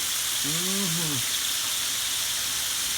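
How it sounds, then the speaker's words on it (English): Bacon sizzling on an outdoor Blackstone cast iron griddle, a loud continuous frying hiss that fills the whole stretch, with a brief tonal voice-like sound near the start. "As you see, I'm cooking my bacon here."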